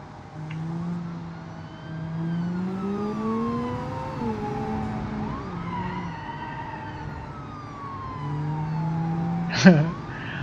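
Police car siren in the driving game BeamNG, wailing up and down in sweeping tones over a rumbling car engine, with a sharp loud burst near the end.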